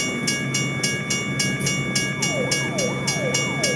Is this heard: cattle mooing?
no